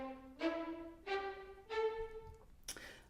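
Cinematic Studio Strings spiccato patch played in Notion: three bowed string notes in a row, each short and slightly swelling, rising step by step, with a brief noisy tail at the end.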